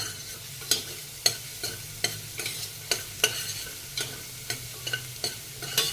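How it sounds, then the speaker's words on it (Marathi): Ginger paste sautéing in a pan, a soft sizzle broken by sharp, regular spoon scrapes and taps roughly every half second, close up and with nobody speaking. "आल्याची जी पेस्ट आहे ही मी आधी टाकणार आहे ती छान मी परतणार आहे"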